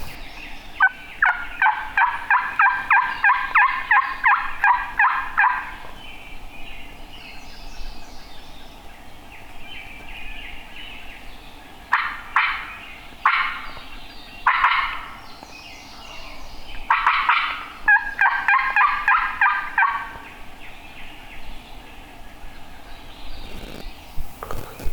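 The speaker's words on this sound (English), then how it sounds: "See if something down here gobbles." Wild turkeys gobble and call on public land, with bursts of rapid rattling gobbles at the start and again later, some nearer and loud, others more distant, amid outdoor ambience.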